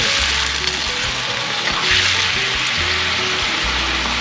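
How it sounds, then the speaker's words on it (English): Seal meat sautés in a hot pan with ginger and garlic, giving a loud, continuous sizzle and crackle close by. No one speaks over the frying. "sauteing or caramelizing the meat will help make the taste stronger"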